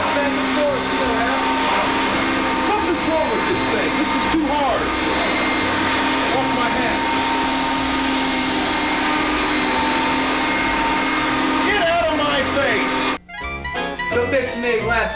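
A household vacuum cleaner runs continuously at close range with a steady whining drone, then cuts out abruptly near the end, leaving clattering handling noises.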